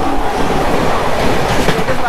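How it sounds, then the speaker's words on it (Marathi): An express train rushes past on the railway near Virar, a steady loud rumble and rattle of wheels on track filling the whole stretch close by, with faint voices mixed in. "कुठलं तरी एक्सप्रेस क्रॉस करते आता आपल्याला"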